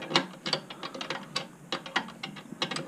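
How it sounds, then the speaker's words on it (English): A stiff nut is turned by hand with a ratchet on a BSA A70L motorcycle's mainstand bolt, producing a quick series of close, crisp clicks in uneven bursts. "tighten the stiff nut on the other side"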